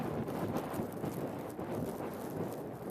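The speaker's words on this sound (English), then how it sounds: "It is very, very windy." Strong wind blows outdoors during heavy snowfall, a steady broadband roar with gusty buffeting on the microphone and no voices.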